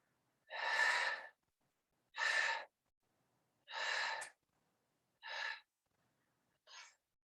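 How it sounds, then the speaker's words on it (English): Five separate audible breaths during a yoga session, each a soft airy rush lasting under a second, spaced about every one and a half seconds in an otherwise quiet room, the last one shorter and fainter. "Conscious breathing."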